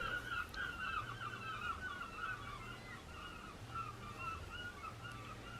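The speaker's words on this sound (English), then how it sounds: "Seagulls are noisy." Seagulls call repeatedly from a short distance, quiet honking cries over a low background hum, with no talking.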